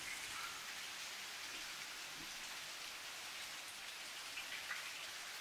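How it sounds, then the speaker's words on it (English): Steady outdoor rain falls in mild, cool weather, a dense, even hiss and patter that runs unbroken throughout with no voices and no thunder. "raining out here"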